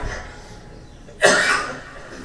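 A single harsh cough bursts out during a funeral service against a quiet background, followed by a brief trailing rasp.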